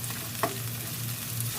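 Creamy chicken curry sauce sizzles softly in a pan while it is stirred, a steady low hiss with one brief scrape of the utensil and no talking.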